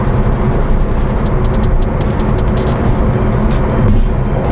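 A Honda Civic FC fitted with TEIN shock absorbers driving across bridge expansion joints: a steady, loud roar of road and wind noise, with the joint impacts barely standing out and muffled by the suspension.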